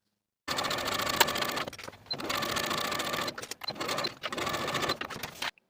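A sewing machine stitches a jacket's side seams in three loud, steady bursts of rapid mechanical whirring, close by, separated by short pauses; no voices.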